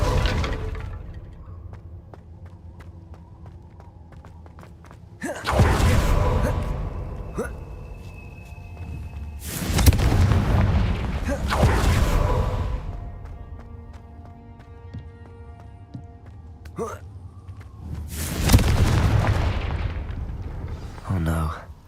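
Three big fiery Confringo explosions from Hogwarts Legacy erupt in sequence, each a loud booming burst with a crackling, rumbling tail, separated by quieter stretches of game ambience and music.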